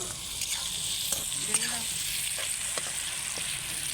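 Chicken pieces fry in a large karahi with a dense, continuous sizzle and crackle, loud and steady throughout, with faint voices in the background.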